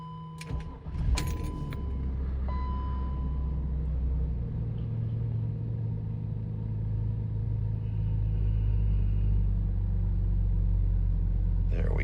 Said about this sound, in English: Ice cold start on the 528i